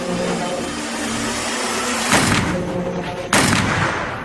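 Two loud gunshots ring out about a second apart over a dense, rumbling background, as a man is shot twice at close range inside a house bedroom.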